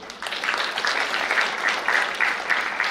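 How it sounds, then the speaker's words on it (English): Audience applause fills a university orientation program hall, a dense, steady clapping from many hands that carries on loudly for the full few seconds without any voices over it. "Big round of applause to all of you."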